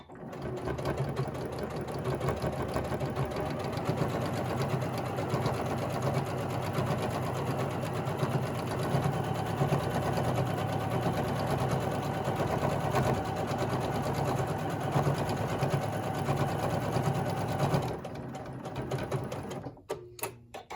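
A sewing machine with a binder attachment stitches binding onto a quilt, a continuous fast mechanical whir and rattle running steadily for most of the clip before stopping near the end.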